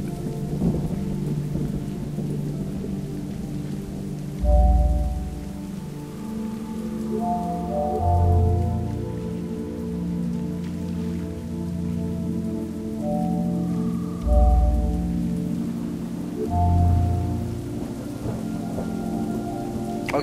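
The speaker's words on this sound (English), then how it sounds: "Thanks for the very spooky thunder." Steady rain pours in an eerie puzzle game, with deep rolling thunder booming four times at intervals over a low droning ambient tone.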